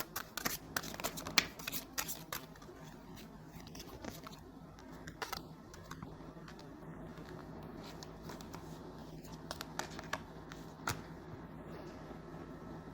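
Tarot cards are shuffled by hand during a reading, giving soft, irregular riffling and slapping sounds close up at a quiet level.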